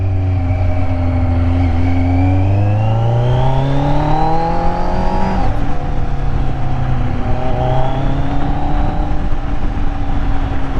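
Motorcycle fitted with LeoVince headers and the stock exhaust, engine running loud and close with a deep bass note, revs climbing steadily then dropping and settling back to a steady drone.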